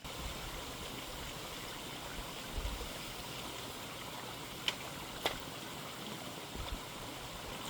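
Water flowing steadily through an outdoor pond under cleanup, a soft continuous trickling wash at moderate distance with a couple of faint clicks, and no voices.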